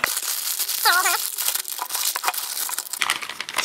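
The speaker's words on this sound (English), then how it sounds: "You get it cut open and dump all the stuff out here." A plastic parts bag of shock components from a Vaterra K5 Blazer Ascender RC kit is cut open and emptied, giving close crinkling and rustling with small pieces clattering out onto a surface.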